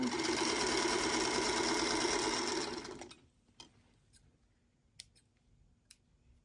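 A sewing machine stitches a quilt block in a steady, close whirring run for about three seconds, then stops, leaving a few faint clicks and taps.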